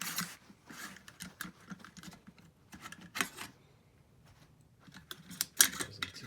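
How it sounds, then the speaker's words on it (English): Metallic clicks, scrapes and clacks as bolt carriers are worked out of AR rifle uppers, an LWRC M6IC and a MAS Defense budget build, close and irregular with short pauses. "see if I can get these bolt carriers out"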